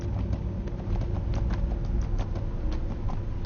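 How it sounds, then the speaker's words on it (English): Horse hooves clip-clopping in Neverwinter, a steady quick rhythm of soft thuds over a rumbling ambient bed, close and continuous with no talk. "And we do have a horse, which makes travel a little bit easier."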